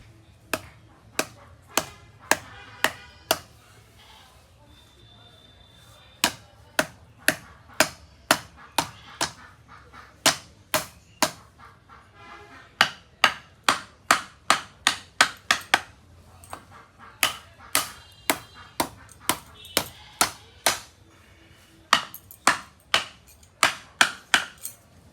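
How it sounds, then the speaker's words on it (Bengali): A large fish head is chopped with repeated heavy, sharp blows struck close by in uneven bursts, with quiet pauses between runs of strikes. "বিশাল বড় মাথা তো কাটতে খুব ঝামেলা হইতেছে।"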